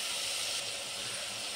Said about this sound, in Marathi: टोमॅटो थोडंसं परतूया आणि आता सोयाबीन टाकूया